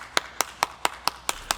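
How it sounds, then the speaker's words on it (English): Seven sharp, single hand claps land at an even, brisk rhythm during plyometric clap push-ups, each crisp and close with brief silence between. "I wanna try and clap at the high point"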